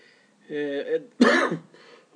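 A woman gives a short, harsh cough between bits of speech, close and fairly loud.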